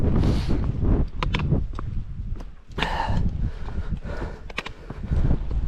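Wind gusting across an exposed hillside on a walk in the Yorkshire Three Peaks, a steady rushing roar buffeting the microphone, with scattered thumps and scuffs over it.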